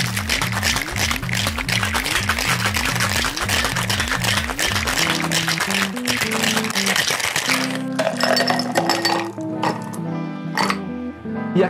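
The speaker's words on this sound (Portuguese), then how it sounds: "E agora é só fechar e shakear como se não houvesse amanhã, até o braço cair." Ice rattles hard inside a sealed cocktail shaker holding a cashew drink, shaken in a steady fast rhythm. The sound is loud and close, with music playing underneath.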